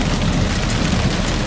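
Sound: rain

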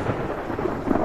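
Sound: thunder and lightning in video game DayZ

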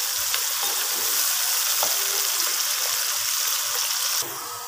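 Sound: onions frying in a pan until brown

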